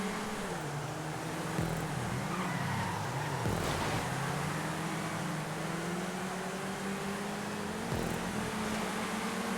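Engine of a Rhapsody car racing in GTA 5, a steady droning motor with rising and falling revs and a few brief gear-shift dips, continuous and fairly quiet.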